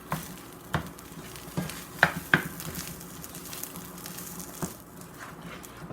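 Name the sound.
food sizzling while pan frying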